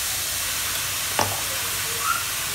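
Beetroot thoran is stirred in a hot pan, giving a steady low sizzle with a brief spoon scrape partway through. It stays quiet and continuous, with no voices.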